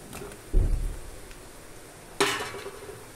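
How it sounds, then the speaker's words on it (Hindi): Mushrooms stirred with onion and black pepper in a hot pan, with two separate bursts of scraping and sizzling, one early and one later, and a quiet sizzle in between. "मशरूम्स को गाइस मैंने मिक्स कर दिया है प्याज और काली मिर्च के साथ"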